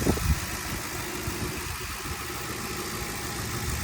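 An ex-Massachusetts State Police Ford Crown Victoria engine idles smoothly without misfiring, a steady close low rumble throughout with no speech.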